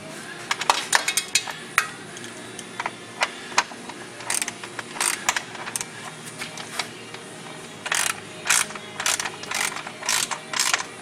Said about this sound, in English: use a 1/2-inch wrench or ratchet, 3/8 ratchet, and 1/2-inch socket, sorry, and just snug them all up.